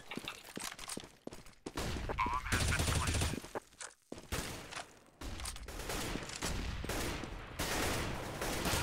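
Rapid bursts of gunfire from the video game CS:GO during an ESL tournament match, loud and dense, with repeated volleys separated by short gaps and brief breaks of near-silence.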